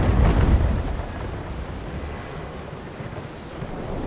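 Wind rushes and ocean waves wash around a sailing ship in the Naval Action game, a steady broadband roar that is loudest at the start and then settles into an even sustained hiss with no talking.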